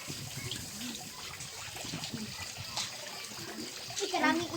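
Water runs and splashes from a tap in a glamping site, close and continuous, with faint background noise and a brief voice-like sound near the end.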